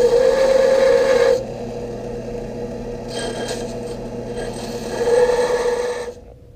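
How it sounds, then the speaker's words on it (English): A file rasps burrs off a machined steel T-slot nut in a home shop, a close, steady gritty scraping with a few sustained strokes and brief pauses between them. "So I'm just going to clean it up a little bit, get some of the burrs off of it"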